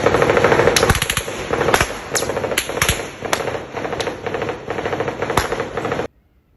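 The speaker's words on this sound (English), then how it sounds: "Gunfire was still heard from the Villa Rosa Hotel near the presidential residence" Sharp bursts of gunfire crack repeatedly near the Villa Rosa Hotel by the presidential residence in Somalia, with rapid automatic volleys and scattered single shots over a steady background din, then stop abruptly.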